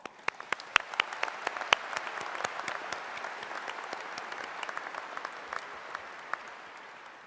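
Audience at a spring commencement ceremony applauding steadily, a broad wash of many hands with sharp individual claps standing out, moderately distant and even throughout.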